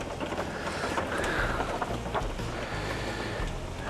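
Heavy rain hisses steadily over a deep, rumbling low background, with occasional louder gusts and splashes; no voices.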